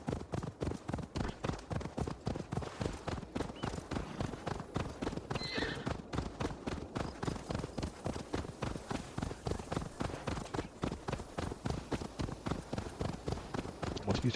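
In Assassin's Creed Valhalla, rapid, rhythmic hoofbeats of a galloping horse pound steadily throughout, close and loud, with a brief whinny partway through.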